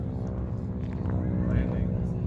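A steady, low engine drone of an airplane coming in to land at an outdoor air show, rumbling and fairly distant, swelling slightly near the end, with people talking nearby.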